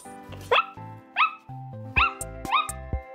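A dog barks four times in a spaced rhythm, sharp and close, over a tinny ice cream truck melody playing in the background.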